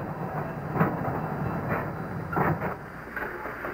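Freight cars of a potato-shipping train roll along the rails near Bakersfield, California, giving a continuous rumbling clatter with a few heavier clanks, moderately close and with no voices.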